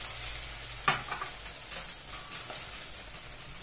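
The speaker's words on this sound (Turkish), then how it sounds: "Karıştıralım topaklanmasın diye." Flour is stirred into melted butter in a pot for broccoli soup, giving close scraping spoon strokes over a low, steady sizzle.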